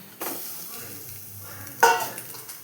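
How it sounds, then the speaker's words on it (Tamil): Fried egg being stirred in a pan for egg thoran, two brief scraping stirs over a soft background sizzle, close and fairly quiet. "வறுத்து வச்ச எக்கை போட்டு கிளறணும்"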